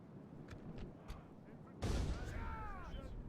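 Siege units firing in a Third Age Divide and Conquer battle at Bree, with a sharp burst of booming, crackling artillery-like fire erupting midway over a steady rumbling battlefield din, mostly distant and dense.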